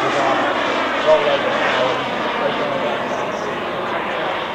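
A model English Electric Lightning jet flies an airshow turn below half throttle at a model airshow, giving a steady, loud broadband engine roar that holds throughout while a voice talks over it.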